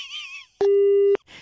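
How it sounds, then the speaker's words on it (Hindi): A phone line drops after a call is cut off, and a single loud, steady disconnect tone sounds for about half a second after a brief stretch of faint noise. "फोन काट दिया"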